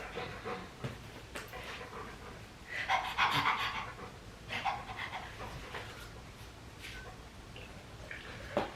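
An excited dog pants quickly and steadily before a walk, close by, with brief whimpery bursts rising over a busy indoor background.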